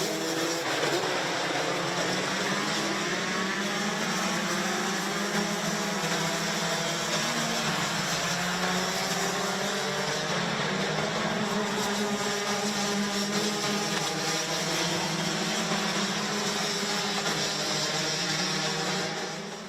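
Rotax racing karts on a formation lap at the Wackersdorf circuit during a Masters heat, their engines droning together in a steady, continuous, overlapping buzz with gently shifting pitch throughout.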